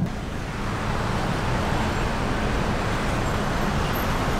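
City traffic in a jam on a road in Kuala Lumpur makes a steady, dense roadway rumble of idling and slowly moving vehicles. The wash of noise is moderate and continuous, with no clear voices.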